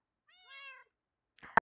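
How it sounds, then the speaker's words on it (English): A Minecraft cat gives a rising-falling meow in-game, then a second short, sharp meow cuts off with a louder click; both calls are close and clear with no talking. "This is my black kittens."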